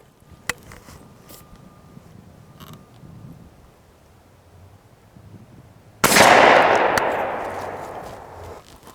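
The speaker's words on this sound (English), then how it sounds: "4 shots, Longbeard XR, Tristar Viper 20 gauge, dipped in mossy oak, extra green bottomland." A Tristar Viper 20 gauge turkey shotgun in Mossy Oak camouflage fires a single Longbeard XR shell outdoors, a sharp, loud blast that rolls off in a decaying echo after a few quiet mechanical clicks.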